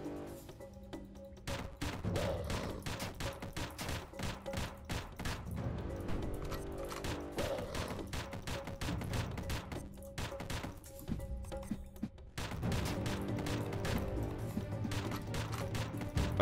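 Rapid gunfire from the pixel-art action game Dungreed plays loud and continuous over a busy game soundtrack, with a brief lull before the shooting resumes at full intensity.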